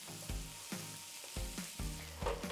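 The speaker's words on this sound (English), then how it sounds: "What we're looking for is that the onions and the mushrooms and everything are sweating down." Onions and mushrooms sweat in a pan with a soft, even sizzle, punctuated by several dull, ringing knocks from a spoon stirring in a tablespoon of tomato puree.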